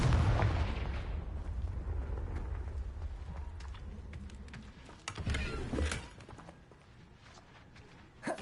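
A Confringo blasting spell cast in Hogwarts Legacy, heard as a burst of booming, crackling impacts over a dense low rumble, with a sharper blast near the middle and a small pop at the end.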